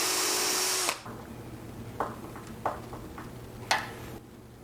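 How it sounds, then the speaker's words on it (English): A power drill whines loudly for about a second while pre-drilling pilot holes for wood screws to fix a tabletop onto a new sewing-table leg set, followed by a few sharp knocks and taps nearby. "just pre-drill some holes for the included wood screws to attach that top to your new leg set"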